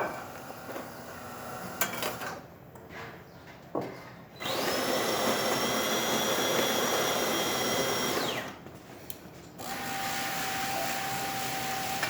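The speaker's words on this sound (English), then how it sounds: "The machine is grinding and also extracting." A DeLonghi espresso machine with a grinder fault grinds coffee and pulls a shot. A loud, steady motor whine runs for about four seconds between duller mechanical humming and whirring.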